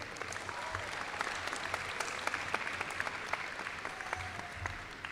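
Steady applause from a ceremony audience at SUNY Oswego's welcoming torchlight ceremony, dense even clapping at a moderate distance that keeps a constant level for the whole stretch.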